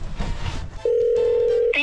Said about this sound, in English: I have Elon Musk number and I'm going to call him